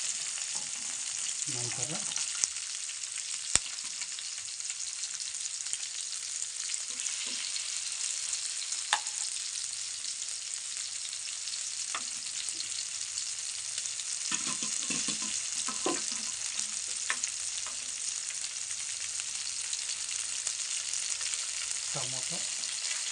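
Country chicken sambar frying on a low flame: a continuous soft sizzle with occasional scraping stirs of the pan, and a voice speaks briefly.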